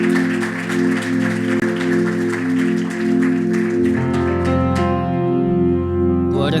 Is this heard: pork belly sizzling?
no